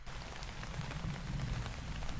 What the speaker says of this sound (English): So we're gonna go back into this drum kit and lay down some forest rain.